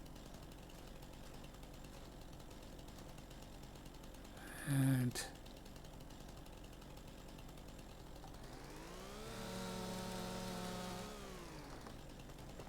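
Chainsaw in Farming Simulator 25 forest work: a sharp burst of cutting near five seconds, then a steady engine drone that rises in pitch and falls back, with a low hum and faint talk throughout.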